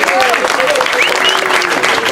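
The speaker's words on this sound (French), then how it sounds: "je vais lui demander de venir me rejoindre sur scène avec un tonnerre d'applaudissements" Audience at a contemporary art gallery inauguration in Toulon applauds as a guest joins the speaker on stage, a dense, loud, steady wash of clapping with voices calling out over it.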